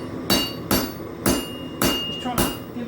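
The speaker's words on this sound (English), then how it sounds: "Trying to give it light strikes along the edge, trying to draw out the metal on the belly." A hammer strikes a hot knife blade on an anvil while forging, drawing out the metal along the edge; five evenly spaced, ringing light blows land close by.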